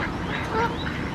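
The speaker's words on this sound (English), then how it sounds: "It's what's going on with all the ducks, because they're all going mad" Ducks quack in a park in February, a short burst of calls close by against a busy outdoor background.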